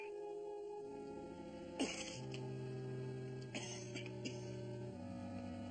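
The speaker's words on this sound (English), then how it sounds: "I hear you coughing." Faint coughing from a man over a radio link in the TV series Voyage to the Bottom of the Sea, a couple of brief harsh bursts under a steady background of sustained tones, quiet and distant.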